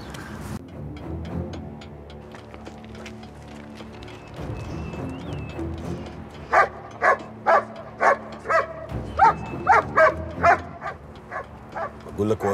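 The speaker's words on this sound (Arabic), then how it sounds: "هو الكلب ده بتاع ايه؟ الكلاب دي بتكشف المفرقعات او المخدرات" A police detection dog, used to sniff out explosives or drugs, barks in a rapid run of sharp, loud barks after a stretch of voices and background noise, with people talking around it.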